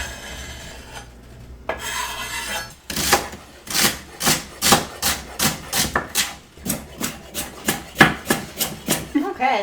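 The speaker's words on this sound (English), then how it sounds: "I'm just going to slice it really thinly" A knife slicing food very thinly for a stew, with a quick, steady series of crisp, close cuts after a few slower strokes at the start, and no voices.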